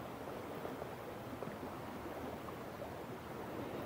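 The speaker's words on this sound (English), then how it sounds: "I always love the nice, calm sound of water running." Steady, broadband rush of water, like a flowing stream or gentle surf, continuous and even throughout with no voices.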